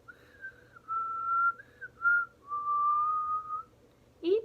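A person whistles a short melodic tune, several clear sustained notes with small slides between them, close and alone, ending with a brief higher chirp.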